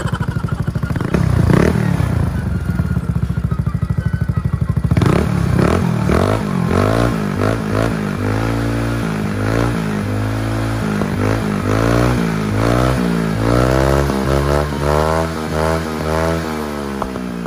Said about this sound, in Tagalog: Medyo may kaingayan ang ating rocker arm. Ang valve clearance ay medyo maluwag.